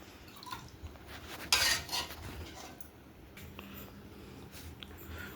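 Dishes and utensils are handled indoors with scattered clinks and one sharp metallic clatter, and a few softer knocks follow. The sounds are fairly quiet against a faint background.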